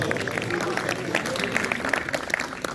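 A crowd claps for Irfan Kashmiri at a cricket league opening ceremony, the dense patter of applause going on under a voice on the microphone.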